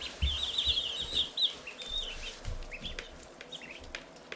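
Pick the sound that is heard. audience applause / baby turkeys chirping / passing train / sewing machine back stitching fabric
baby turkeys chirping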